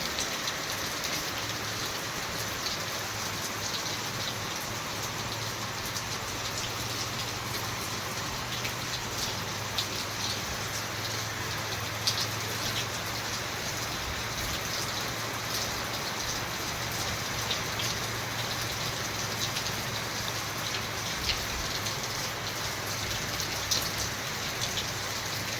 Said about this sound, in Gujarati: અત્યારે પાછો વરસાદ ચાલુ થયો